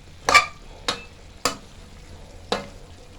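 Chinese kale stir-fried with crispy pork in a little oil, with four sharp, brief clatters of a utensil against the pan spaced about a second apart over a low background hiss.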